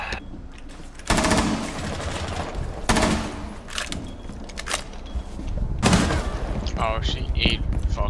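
Gunfire in Rainbow Six Siege, several loud bursts of automatic fire and single shots mixed with game effects, with players talking over it.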